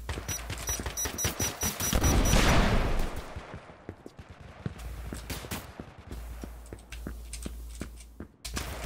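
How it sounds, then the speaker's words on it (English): Gunfire in the web3 first-person shooter Exverse, a dense volley of rapid shots up close that thins into scattered, irregular reports against a low rumble, with no talking. "Where are they shooting from?"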